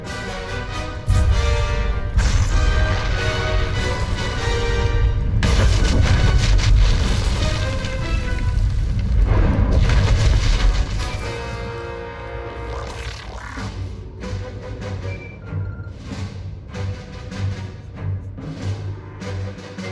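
A video game explosion, a loud rumbling blast with deep roaring low end that swells and churns for several seconds, then eases into lower rumbling debris and ambience.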